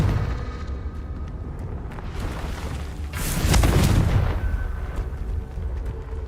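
A Confringo spell explosion in Hogwarts Legacy, heard as a heavy, booming blast that swells midway over a constant rumbling roar and then slowly fades, with no voices.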